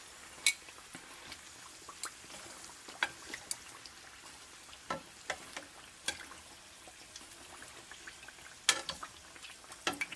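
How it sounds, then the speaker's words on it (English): Chebureki frying in hot oil, a steady soft sizzle punctuated by sharp clinks and scrapes of a spoon ladling oil over the pastries. "I'm just going to keep spooning the oil over it until they're done"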